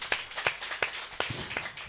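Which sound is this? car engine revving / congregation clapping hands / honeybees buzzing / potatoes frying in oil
congregation clapping hands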